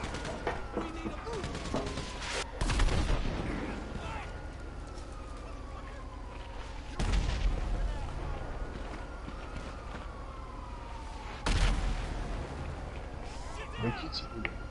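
Gunfire in the GTA 5 video game, with three loud bursts of shots or explosions a few seconds apart over a busy game soundscape, with sirens and gliding tones and someone talking throughout.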